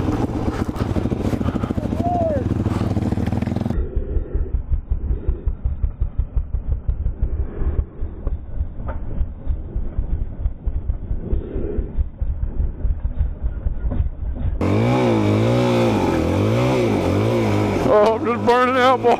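A 400cc dirt bike engine revs hard through a burnout in a slippery field, a loud continuous roar with choppy throttle pulses that surges into a higher, wavering whine near the end.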